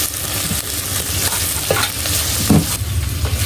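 Tomatoes frying in a pan for corned beef sinigang, a loud dense sizzle with a couple of spoon scrapes as they are stirred, no talk over it.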